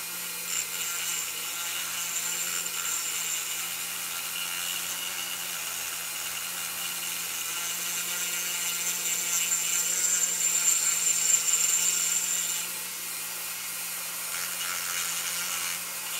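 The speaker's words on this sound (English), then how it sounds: "I'm gonna grab one of my diamond burrs and use a little bit of Dremel power" A Dremel rotary tool fitted with a diamond burr grinds the fender of a diecast Chevy Blazer body, holding a continuous high-pitched whine with a rough grinding texture that swells briefly partway through.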